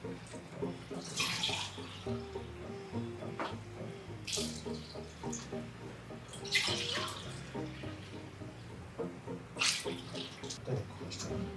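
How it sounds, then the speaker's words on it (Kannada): Water runs and splashes steadily into a pot for mushroom pulao, with a few sharper splashy bursts and music playing underneath. "ಇವಾಗ 4 ಗ್ಲಾಸ್ ನೀರು ಹಾಕಿದ್ವಿ, ಇನ್ನೊಂದು 3/4 ಹಾಕ್ಬೇಕಾಗತ್ತೆ"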